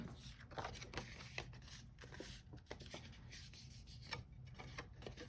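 Paper is folded to build a paper house, with quiet close rubbing, creasing and rustling strokes in an irregular rhythm, faint overall.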